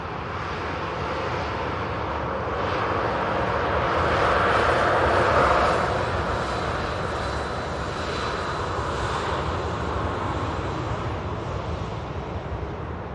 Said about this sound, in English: 737 800 series. Just rolling on 2-3 left.